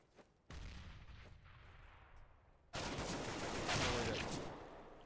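Gunfire in the shooter game CS:GO, a sudden sharp burst followed by a sustained loud stretch of rapid shooting and noise that swells and then fades slightly, dominating the scene.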